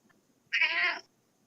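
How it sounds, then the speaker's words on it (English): A cat gives a single clear meow lasting about half a second, close and distinct against near silence. "Kitty."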